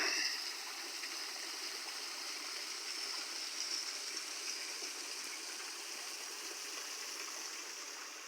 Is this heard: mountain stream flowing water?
yes